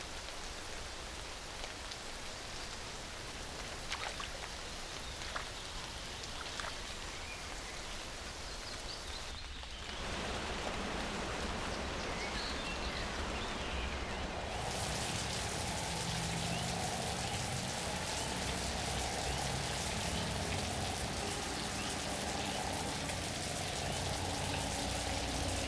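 Steady rain pours down across the African wilderness, a dense, even hiss that grows heavier and fuller partway through and keeps falling without pause.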